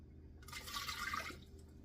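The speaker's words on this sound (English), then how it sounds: "180 milliliters of water." About a second of water, 180 milliliters, poured into a bowl while making vegan seitan ham dough: a brief, soft splashing gush that starts and stops abruptly, heard alone in a quiet room.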